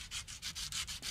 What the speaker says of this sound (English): Here you can see how the hoof buffer helps finish the upper border of the roll.